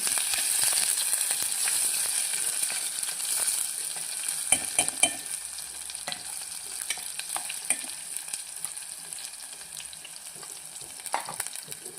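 Chopped onions and green chili fry in a pan for masala oats, giving a steady bright sizzle with scattered clinks of stirring, close and alone without voices.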